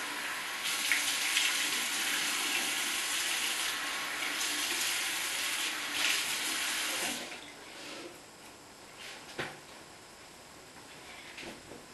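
Warm water runs from a bathroom tap into a sink during a face rinse, a steady hiss for about seven seconds before the flow stops, leaving faint drips and small splashes.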